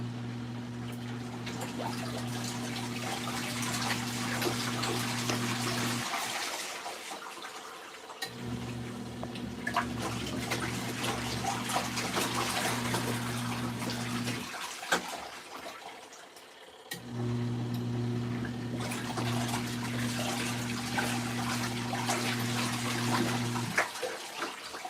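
An LG ThinQ MEGA Ultimate washer on a deep wash cycle sloshes and splashes water steadily, with a low motor hum running in three long stretches broken by brief pauses.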